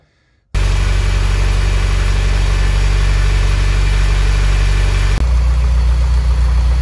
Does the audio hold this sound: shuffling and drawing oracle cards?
no